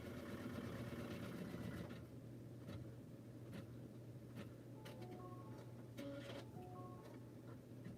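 An embroidery sewing machine runs steadily as it stitches a placement line on hooped fabric, giving a continuous mechanical whir with rapid rhythmic ticking and a few soft beeps near the end, close by and with no talking.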